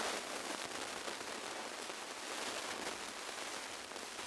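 Rain falls steadily on the Lizard peninsula coast near Kynance Cove in late February, a faint, even hiss with no voices.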